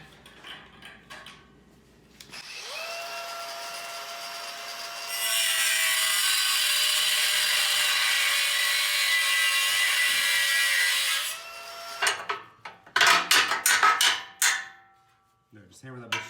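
A power saw cutting through the front wheel of a wrecked 2017 Polaris RZR 1000, a steady loud grinding cut lasting several seconds, preceded by lighter tool noise and followed by sharp clanks and knocks.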